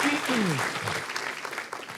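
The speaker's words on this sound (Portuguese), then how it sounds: "Dê uma salva de palmas aí a Jesus." Church congregation clapping during a sermon, a brief burst of many hands applauding that overlaps with a voice at the start and tapers off unevenly.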